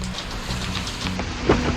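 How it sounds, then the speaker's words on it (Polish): Heavy rain pouring down on the morning of a bike trip, a dense, steady hiss of drops striking surfaces close by, with a low rumble underneath and one brief knock near the end. "Mega leje."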